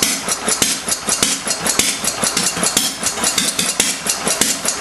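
A Fairbanks-Morse Z engine idles at its lowest RPM, giving a loud, steady, rhythmic chuffing of regular firing beats with no talk over it.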